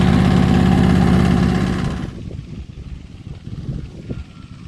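A small tractor engine drones loudly and close in a windy sugar-beet field for about two seconds, then drops away, leaving faint, gusty low rumbles.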